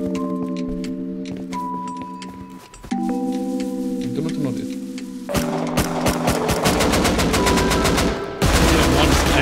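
Automatic gunfire in the survival game Rust during a base raid: loud, dense bursts of rapid shots that grow heavier toward the end, layered over steady droning tones.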